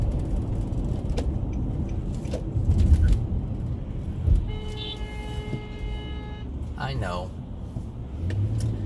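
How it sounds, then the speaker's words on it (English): Busy road traffic passes nearby, with vehicles rumbling by, a car horn sounding and a brief squeal, while a person talks briefly over it. "but there's just a lot of traffic"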